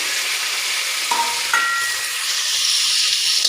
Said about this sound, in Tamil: வெங்காயம் தக்காளி போட்டு நல்லா வதக்கிடணும்.